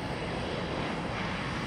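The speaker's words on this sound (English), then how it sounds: "the company's fleet of airplanes hums along about 400 miles away at Worldport in Louisville" Heavy jet aircraft at the UPS Worldport air hub in Louisville, Kentucky, a steady broad roaring hum of engines filling the air without pause, no voices present.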